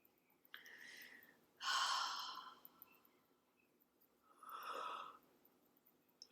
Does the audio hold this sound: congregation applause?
no